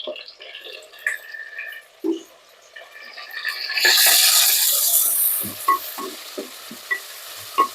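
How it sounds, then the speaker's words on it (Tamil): Curry leaves and chillies fry in oil for a fish curry, with scattered spoon clinks and scrapes, then a loud surge of sizzling that fades back to occasional stirring taps. "கருவேப்பிலை மிளகாயெல்லாம் வதங்கிருச்சு"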